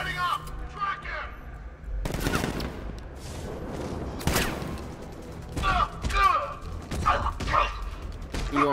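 Gunfire in the Batman Arkham Knight video game: repeated sharp bursts and single shots of varying loudness, mixed with game voices and barking dogs.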